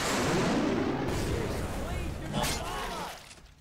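In the game Left 4 Dead 2, a gas tank explodes with a loud, crackling boom that rolls on and then fades, while players' voices are heard.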